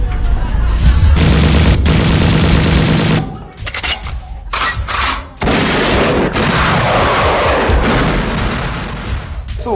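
Loud, close bursts of gunfire in a drive-by shooting from a Jamaican stage play, heavy booming shots and rapid volleys that break off briefly, then return in a dense, sustained barrage.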